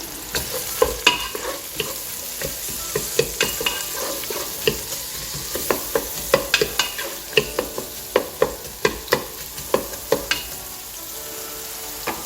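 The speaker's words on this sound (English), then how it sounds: "Sweating the onions means to cook them a little bit, just for them to be a little bit translucent" Onions sweating in a pan for vegetable stock give a steady soft sizzle, broken by repeated sharp scrapes and taps of a utensil stirring against the pan.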